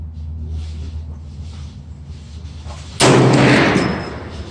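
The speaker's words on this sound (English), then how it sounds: "here goes the second shot at 50 yards" A single loud, close rifle shot from a Bear Creek 450 Bushmaster, fired at a 50-yard target, breaks abruptly out of low background hum and rings into a sustained decaying blast.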